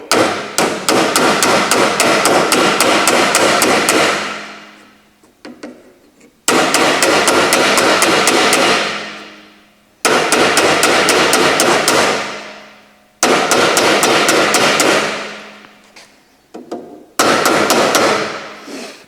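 A hammer strikes a car's front apron panel against a steel dolly in four long, rapid bursts of loud metallic blows, each run fading out before a brief pause, no voices.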